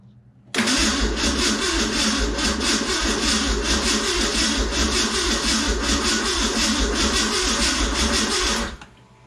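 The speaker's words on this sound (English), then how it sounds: "Oh, the engine's spinning over" An old, cheap Ford Ranger 4x4 engine cranks over continuously and loudly, a steady whirring churn that starts abruptly and runs for about eight seconds before cutting off, without catching.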